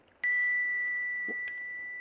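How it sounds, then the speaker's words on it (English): A small bell tapped once with a pendant in an old radio drama, giving a sharp strike and then a clear, pure ring that holds steady and fades slowly, with a faint second touch partway through. "You hold the bell, and I'll tap it with the pendant."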